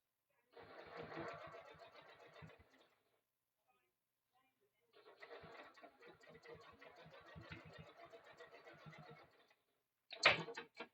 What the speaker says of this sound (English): Make sure my seam is pointing down towards the smaller piece and then just top stitch it.